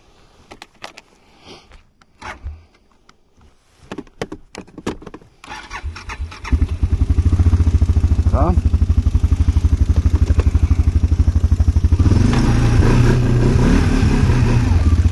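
QJMOTOR SFA 600 motorcycle engine: scattered clicks and starter attempts, then the engine catches and settles into a loud, steady, throbbing idle, with one brief rising rev and a louder rev near the end.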